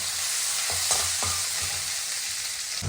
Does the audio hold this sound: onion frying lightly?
yes